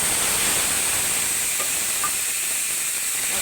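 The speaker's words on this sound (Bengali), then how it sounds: "দিয়ে দিচ্ছি বেটে রাখা মশলা।" Ground spice paste hitting hot mustard oil produces a loud, continuous hissing sizzle that stays steady throughout, close and unbroken.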